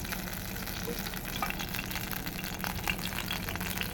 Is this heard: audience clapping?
no